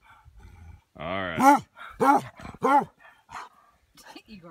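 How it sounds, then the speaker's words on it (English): A basset hound barks several times in deep, drawn-out bays, loud and close, with soft whimpering sounds around them. "Woof, woof, woof."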